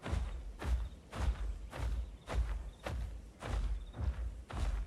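Heavy footsteps in the survival game Ark, a steady run of about eight deep, booming thuds spaced roughly evenly, each with a soft rustling tail, fairly loud and alone.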